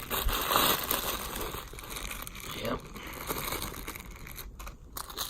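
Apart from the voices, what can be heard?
crinkling plastic bag packaging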